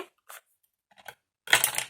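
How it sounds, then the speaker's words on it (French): Scissors snip through material during a sewing or craft assembly, with a few short sparse cuts followed by a louder cluster of crisp snipping and rustling near the end. "J'avais des ciseaux."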